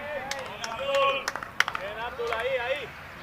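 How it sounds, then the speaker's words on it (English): A cricket crowd at a T10 match in Alicante cheering and clapping to encourage the bowler, with scattered claps and shouts at moderate distance, mostly under a commentator's talk. "you might have heard on our mics there, good encouragement coming from the Al-Faz crowd"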